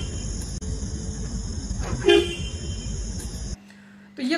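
A steady horn blares for several seconds over a low rumbling background, then cuts off abruptly.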